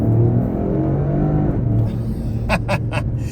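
A 2026 Lexus LBX Morizo RR's engine accelerating uphill, a loud, gruff, steady drone from inside the cabin, with a few short sharp knocks near the end.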